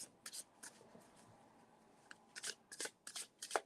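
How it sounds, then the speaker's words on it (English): Soft, close tarot card shuffling in quick papery bursts, quiet with brief pauses, a handful of riffles toward the end. "Let's get that shuffling."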